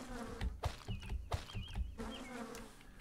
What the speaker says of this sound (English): bees are apparently hard to kill